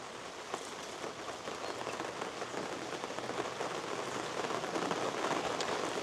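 Rain falls steadily on outdoor surfaces during a summer day, a soft, continuous patter of dense drops at low, even loudness, with no voices present.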